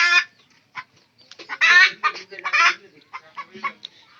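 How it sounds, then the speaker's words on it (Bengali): A native egg-laying hen clucks in short bursts, a few louder and drawn out, with quieter scattered clucks between, close by and without talk. "আমাদের ডিম পাড়া মুরগি"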